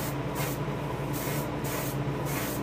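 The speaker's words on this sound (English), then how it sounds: "I'm going to show you how to angle spray the fin" Spray gun hissing paint onto the fin of a largemouth bass taxidermy mount, steady airy bursts pulsing on and off about five times, close and continuous.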